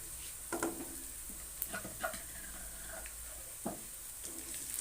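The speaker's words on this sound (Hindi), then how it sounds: "अब इसके साथ हम डालेंगे अदरक लहसुन का पेस्ट।" Ginger garlic paste fries with cumin seeds in a pan as a karahi gosht is cooked: a soft, low sizzle with several scraping stirs of a spoon against the pan.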